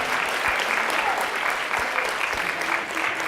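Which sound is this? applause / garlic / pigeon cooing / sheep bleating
applause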